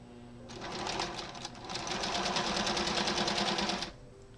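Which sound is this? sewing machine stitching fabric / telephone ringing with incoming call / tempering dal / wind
sewing machine stitching fabric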